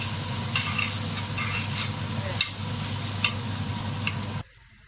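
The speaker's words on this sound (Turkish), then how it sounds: "Şimdi güzelce karıştırıyorum. Pirinçler biraz şeffaflaşana kadar karıştıracağım." Rice grains stirred as they fry in a soup pot, a steady close sizzle with light scraping strokes of the spoon recurring throughout, cutting off abruptly near the end.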